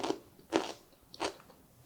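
Three crisp bites into cucumber crunch at close range, spaced out with short pauses of quiet chewing between them, without any talking.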